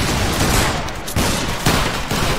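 Musket volley fire in the game Battle Grounds III during a linebattle, a continuous loud rolling crackle of many shots with several surges, filling the whole stretch at close range.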